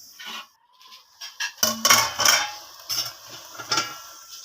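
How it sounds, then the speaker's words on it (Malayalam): Clam meat simmering down in a pan as its liquid reduces, with soft bubbling and intermittent scrapes and clinks of a stirring utensil against the pan, close and fairly quiet. "നമ്മളെ കക്ക ഇറച്ചി നല്ലതായിട്ട് വറ്റി തുടങ്ങി"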